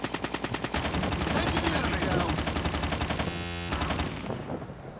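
Rapid automatic gunfire from the Call of Duty: Standoff mobile shooter, dense bursts of repeated shots running nearly continuously and loud, with a brief sustained tone partway through and the shooting easing off near the end.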